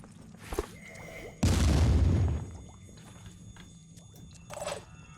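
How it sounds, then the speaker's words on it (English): A tactical grenade goes off in the video game Phoenix Point: one sudden, loud, deep boom that rumbles on for under a second before fading, with quieter game sounds before and after. "Eduardo, you're going to get a tactical grenade in just like this."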